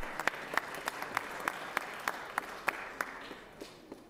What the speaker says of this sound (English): How about giving them an applause and congratulations for 35 years of a job well done